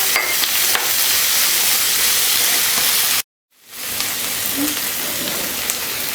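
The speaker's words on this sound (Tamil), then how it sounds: "இன்னும் வெங்காயம் ஓரளவுக்கு வதங்கிடுச்சு." Onions sautéing in a pan for a Chettinad chicken curry, salted to soften faster, hiss with a steady, loud frying sizzle that cuts out briefly and then resumes.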